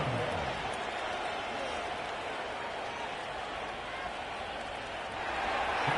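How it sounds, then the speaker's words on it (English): After a successful extra point by the Buccaneers, a large Wembley crowd at an American football game applauds and cheers in a continuous roar, with a commentator talking over it. "Big crowd on hand. They love American football."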